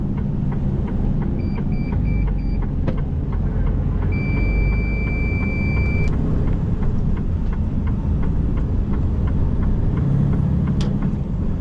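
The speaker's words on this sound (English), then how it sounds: "If you wonder what that beeping is, by the way, it's some of the sensors" Electronic beeping from a truck's proximity sensor: a short run of repeated high beeps, then one longer steady tone, over a constant low engine rumble.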